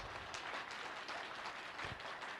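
Applause from an audience at a motivational seminar, a steady soft wash of many hands clapping together, fairly faint and distant throughout.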